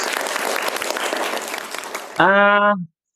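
Classroom students clap together for about two seconds in a dense, moderately loud patter, then a sustained tonal voice-like sound briefly takes over before silence.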